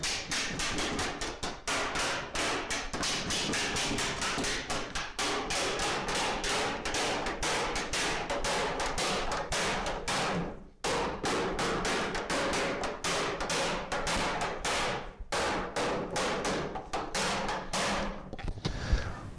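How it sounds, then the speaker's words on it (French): Rapid, relentless hammer blows ring out on the metal hoops of a wooden barrel in a cooperage, a steady fast rhythm of sharp close strikes with only brief pauses, and no voices. "tout simplement au marteau je vais les taper par l'intérieur en contrant avec la chasse"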